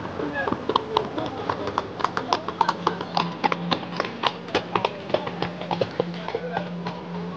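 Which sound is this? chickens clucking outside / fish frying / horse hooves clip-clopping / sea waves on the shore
horse hooves clip-clopping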